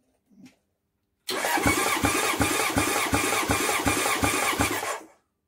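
Honda CB750 chopper engine cranking over on the starter during a compression test, a loud rhythmic chug of about a dozen even compression strokes lasting roughly four seconds without starting.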